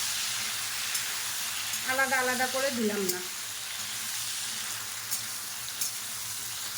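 Ridge gourd and potato pieces frying in a pan alongside prawns give off a steady, even sizzle throughout, with a voice speaking briefly over it.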